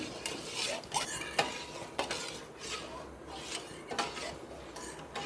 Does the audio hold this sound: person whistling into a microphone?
no